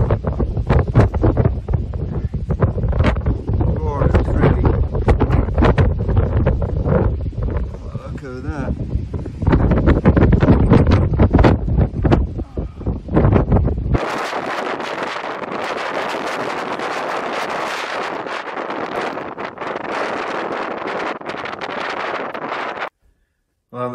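Strong gale wind in the Pyrenees mountains roaring and buffeting the microphone, loud and continuous, with gusty low rumbling at first and then a harsher sustained rush.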